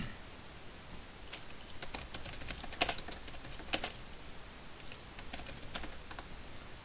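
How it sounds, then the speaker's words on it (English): Fingers type steadily on a computer keyboard, a close, quiet stream of light key clicks with a couple of slightly harder taps, no voices. "I've started typing."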